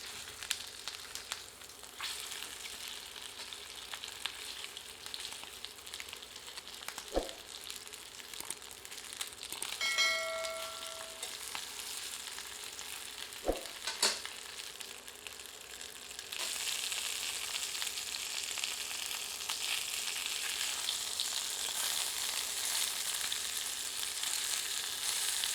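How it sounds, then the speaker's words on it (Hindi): Chicken grills in oil in a pan for stuffed Nargisi-style chicken, giving a low steady sizzle with a couple of knocks as the pieces are flipped, and the frying hiss grows louder over the second side. "और अब चिकन को इस तेल में ग्रिल करते हैं। इसे पलटकर दूसरी ओर से भी ग्रिल करते हैं।"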